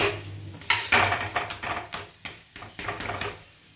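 Food cooks in a pan for a healthy breakfast, just flipped over. A soft sizzle sits under a run of close scraping and tapping strokes from a utensil against the pan, uneven in rhythm, with no talk.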